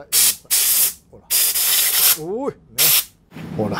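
A compressed-air gun blows during handlebar grip work on a custom Kawasaki Zapper motorcycle, firing four loud, close hissing bursts of about half a second each, with people talking between them.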